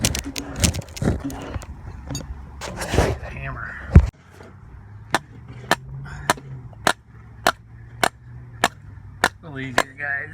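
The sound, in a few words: hammering anchors into deck foundation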